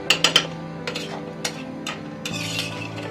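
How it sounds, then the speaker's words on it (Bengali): Mutton curry with spices being stirred in a pot: a quick burst of three metallic clanks at the start, then softer scattered scrapes and taps of the utensil against the pot, close by with no voices. "এবারে নেড়ে চেড়ে সাইডে লেগে থাকা মশলাগুলোকে ভালোভাবে ঝোলের সাথে মিশিয়ে দিব"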